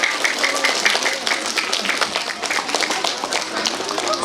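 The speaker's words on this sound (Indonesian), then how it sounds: "Beri tepuk tangan yang meriah." Applause from the audience at an elementary school graduation thanksgiving ceremony, right after the class 6 pupils receive their graduation medals together. The clapping is dense and steady, fills the room at a moderate level and carries on throughout.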